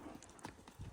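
Saddle donkey trotting, its hooves beating a quick clip-clop rhythm close by over one second.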